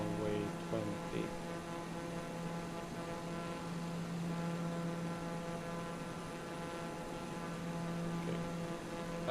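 Steady droning hum of a propeller airplane's engine in the video game Tailstrike, landing on a runway, a constant loud tone with no change in pitch.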